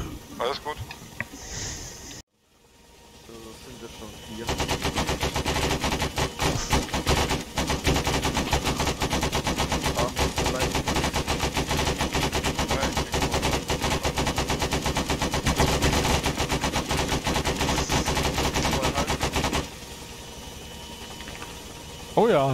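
Sustained automatic machine gun fire from a firefight in the ArmA 3 military shooter, loud and continuous for about fifteen seconds after a brief pause, with incoming fire and someone talking over the battle.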